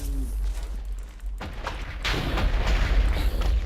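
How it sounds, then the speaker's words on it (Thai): Explosion in a Minecraft Hypixel arcade game, a sudden loud blast with rumbling low end that lingers as dense broadband noise for a couple of seconds amid game sounds. "ระเบิดนี้คือเราโดนด้วยหรอวะ"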